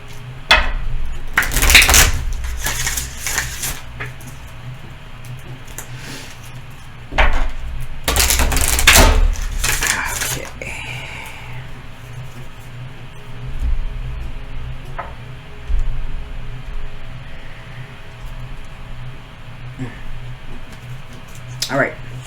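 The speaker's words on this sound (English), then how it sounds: "Shuffle them again." Oracle cards are shuffled by hand in a few short, sharp riffling bursts with quieter tapping between them, close by, while a voice talks.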